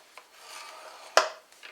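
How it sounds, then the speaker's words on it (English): A small ball-tipped scoring tool drags across card stock in a short faint rasp, ending in one sharper scrape, close and quiet with no talk. "we're going to score our main card on the 11 1/4 inch side"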